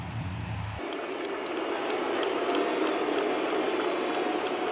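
Baseball crowd at a Guardians home game in the ninth inning, a broad roar of many voices filling the stadium continuously and loudly, swelling slightly as it goes on.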